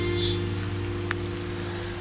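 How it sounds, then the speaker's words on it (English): Raindrops fall on ancient temple stones in Ayutthaya, Thailand, making a steady, close patter over a constant low hum, with one brief sharper drip standing out midway. "Raindrops falling on the temple stones."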